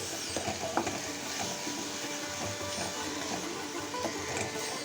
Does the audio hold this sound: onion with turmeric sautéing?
yes